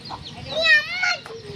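Chickens in a village yard give a brief burst of close, high clucking calls over light background noise.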